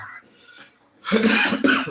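A person coughs close by, a loud harsh burst followed by a second short cough after a quiet moment.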